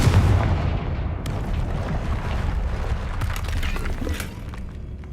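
The Confringo blasting spell from Hogwarts Legacy bursts with a loud, booming explosive rumble that opens strongly and then fades into a sustained crackling roar.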